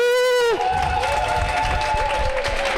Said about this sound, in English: let's have a round of applause for our officials in this tournament and for the teams